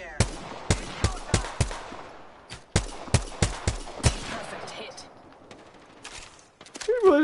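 Gunfire in a shooter video game: a rapid series of sharp, loud shots in two bursts, each with a short echoing tail, followed by quieter scattered sounds and a brief voice near the end.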